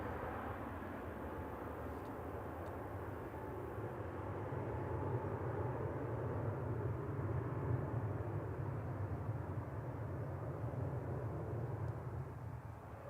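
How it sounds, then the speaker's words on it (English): A Ryanair Boeing 737 Max 8 jet departs Manchester Airport for Riga, its engines producing a broad, steady rumbling roar that swells slightly midway, heard at a distance and faint. "Ryanair 4096 to Riga there, EIHMY and Max 8 departing"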